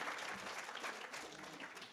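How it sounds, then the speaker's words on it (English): Faint applause from a lecture audience at a museum, a brief soft patter of many hands clapping for two seconds, heard at a distance with no voice over it. "give them a round of applause"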